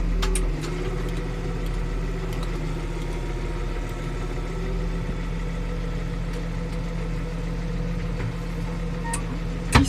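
A warmed-up New Holland T6.175 tractor runs at a steady, close idle, with a constant low drone throughout and only a faint high turbo whistle above it.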